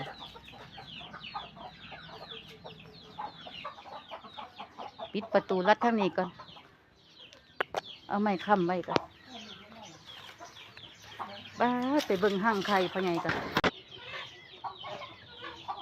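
Chickens at a rural Thai home cluck and squawk in several loud bursts, close by, while someone talks almost throughout.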